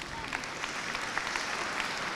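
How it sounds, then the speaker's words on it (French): Congregation at a children's Christmas Eve Mass in a cathedral bursting into steady applause, a dense continuous patter of many hands clapping at moderate loudness across the whole stretch, with faint murmuring voices underneath. "Il faut applaudir"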